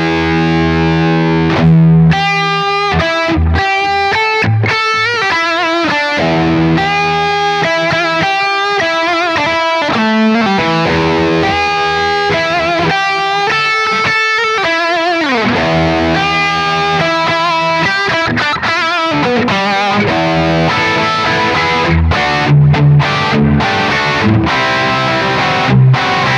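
Distorted electric guitar plays a lead solo imitating the vocal melody from the verse, loud, sustained bent notes with short pauses between phrases, no talking.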